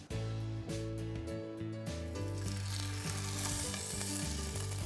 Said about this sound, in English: now pan frying our fish